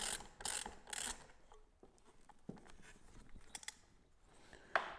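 A ratcheting tool tightens a fastener during a Tesla Model S door handle repair, giving quiet clicking and mechanical ticking in short bursts, with a few louder clicks at the start and a sharp click near the end.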